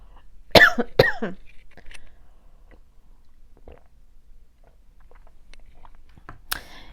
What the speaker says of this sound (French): Je vais prendre une gorgée, excusez-moi,